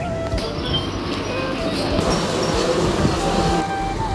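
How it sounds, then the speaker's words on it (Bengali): A train pulls into Gopalnagar station in West Bengal on a suburban line toward Ranaghat, near the Gede border. It is a steady, loud rumble with faint tonal squeals early on, heard close and without a break. "ট্রেন আসুক আমার ট্রেন আ গেয়া দেখতে পাচ্ছ"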